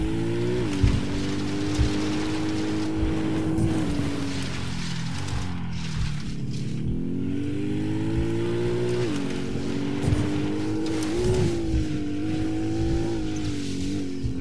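Car engine in the Ghost Recon Wildlands video game, a steady loud drone with shifting pitch as the vehicle revs and eases off, running continuously throughout.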